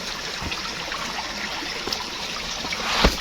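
A small waterfall pours from a canal on a hiking trail at Camp John Hay in Baguio, giving a steady rushing, splashing wash of water with a few louder splashes, continuous and fairly close.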